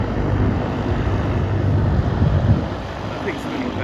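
A Cirrus SR22 engine runs during takeoff, a loud broadband roar mixed with wind buffeting on the microphone, easing slightly toward the end.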